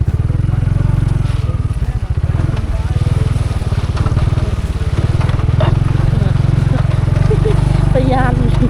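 A motorcycle engine chugs in a steady, close, rhythmic pulse after a gear change, running continuously throughout with faint voices and small scraping noises in the background.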